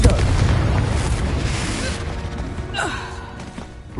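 A Confringo fire spell from Hogwarts Legacy going off as a heavy, rumbling blast, loud at the start and fading into a rolling decay with some game sounds and a voice nearby.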